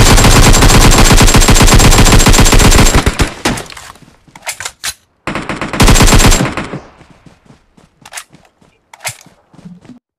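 Rapid automatic gunfire in the PUBG Mobile battle game: a long loud burst of dense shots, a pause with scattered single cracks, then a second sustained burst and a few sharp isolated shots.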